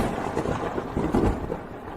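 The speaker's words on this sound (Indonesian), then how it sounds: "Petir surgawi, dengarlah panggilanku." Thunder sound effect from summoned heavenly lightning in a dramatic fantasy scene: a steady, heavy rumble with swelling cracks near the middle, loud and continuous throughout with no talking.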